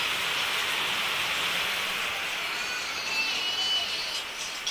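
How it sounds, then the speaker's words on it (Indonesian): Heavy rain pours down outside in a steady, dense hiss that fills the whole stretch at an even, fairly loud level, with no talking over it. "Nah, hujannya lumayan deras guys."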